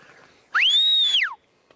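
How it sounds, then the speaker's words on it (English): A man's single long whistle to call Cyclops the cheetah, rising quickly, holding a steady bright tone for nearly a second, then sliding down, close and loud against quiet surroundings. "I'm going to whistle now and see if he'll come"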